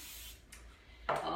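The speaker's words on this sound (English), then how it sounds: "I forgot to spray my pan with my best friend Pam." Pam cooking spray is sprayed onto a baking pan in a short, close hiss. One brief burst is followed by a stronger, louder spray at the end, with no talking.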